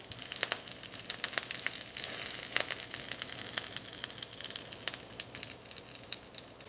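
Fries sizzle and crackle steadily in hot oil during their second fry, with dense popping bubbles and sharp spatters close up, loud and continuous with no voices.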